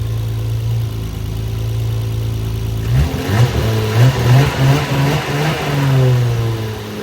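A cold car engine idles with a low, steady hum, then revs up and down in several rising bursts, close by and loud.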